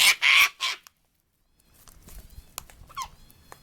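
Flock of over 20 wild cockatoos at an outdoor bird bath, a burst of loud harsh screeches up close, then a pause and scattered, fainter calls and squawks.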